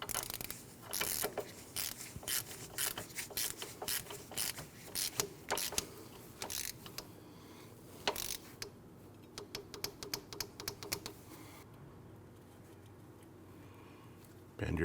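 A ratchet clicks rapidly at close range, tightening the outer tie rod nut on a 2012-2016 Honda CR-V, in repeated bursts of sharp ticking strokes with brief pauses between them.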